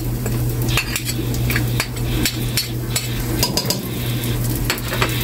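Garlic sautéing in a pan for spicy ginataang pata: loud continuous sizzling with busy clinks and scrapes of a metal utensil stirring against the pan, close and steady throughout.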